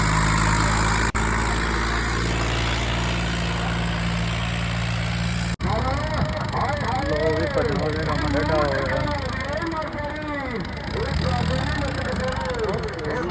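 An old Swaraj 735 tractor's diesel engine runs and labours under load, a continuous rough rumble with someone talking over it throughout.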